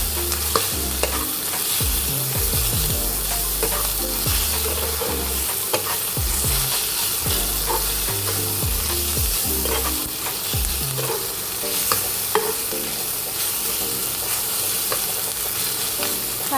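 Sliced onion and eggplant frying in a pan for stuffed eggplant, a steady close sizzle with repeated scraping strokes of a spatula stirring throughout, no voices.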